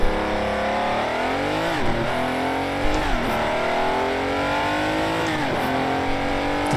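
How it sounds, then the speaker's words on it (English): Classic Ferrari Can-Am race car engine in Assetto Corsa, loud and close, revving up through the gears with rising sweeps and brief drops at each shift, continuous and alone without talk. "Typical classic Ferrari engine sound is reflected so nice in this."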